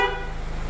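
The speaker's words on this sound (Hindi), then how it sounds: "अब बात कर लेते हैं हॉर्न की, तो हॉर्न कुछ इस टाइप का है," A 2022 Mahindra Thar LX hard-top diesel SUV sounds its horn in one short, steady, loud blast heard close up and alone.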